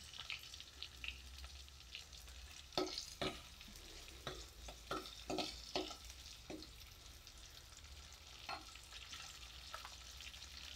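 Chopped capsicum fries in oil with curry leaves for a matka paneer gravy. A faint, steady sizzle is broken by a cluster of soft stirring scrapes and taps near the middle.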